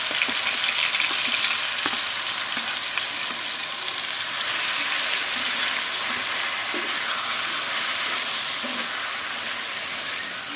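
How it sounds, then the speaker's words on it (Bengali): Mashed taro frying with onion, garlic and spring onion in a pan over medium heat, making a loud continuous sizzle with faint occasional stirring taps and no speech. "মিডিয়াম আছে রেখে ধীরে ধীরে ভাজতে হবে"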